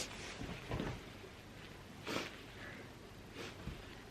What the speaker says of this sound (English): because I'm sniffing away.